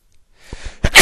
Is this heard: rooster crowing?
no